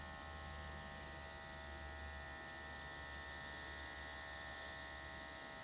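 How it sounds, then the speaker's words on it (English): An airbrush sprays paint onto a leather canteen purse with a faint, steady, continuous hiss and buzz, no pauses and no talk. "with an airbrush, consistency is key"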